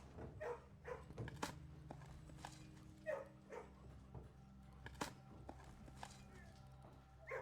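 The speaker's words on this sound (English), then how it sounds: "Pet the puppy." Small puppy barks in the video game Blue Prince, several short yaps spread unevenly over a quiet in-game background with a few soft footstep-like clops.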